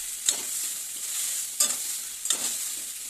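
Vegetables and crushed dried lentil dumplings fry in a pan under a steady sizzle, while three distinct stirring scrapes cut through at regular intervals; no one speaks.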